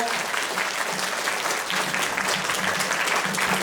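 Steady audience applause at an accordion school concert, dense clapping from a full hall that holds evenly throughout with no voices over it.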